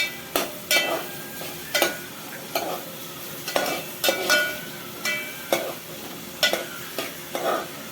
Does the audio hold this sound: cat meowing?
no